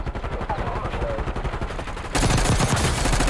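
Gunfire in Call of Duty: Warzone (Black Ops 6) with a Tanto .22, rapid shots rattling steadily, then a louder, denser burst near the end, close and sharp with no talk over it.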